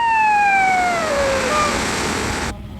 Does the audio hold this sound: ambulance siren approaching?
yes